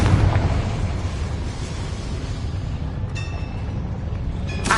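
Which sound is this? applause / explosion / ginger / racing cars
explosion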